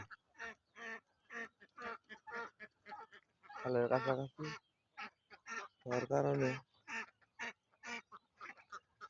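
Farmed ducks quack in loud bursts over someone talking steadily nearby, at a duck house in the middle of a river.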